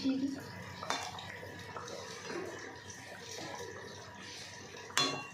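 Light scraping and clinks of a spoon stirring rui posto fish curry with coriander leaves in a pan, quiet and sporadic, with two sharper metallic knocks near the start and end.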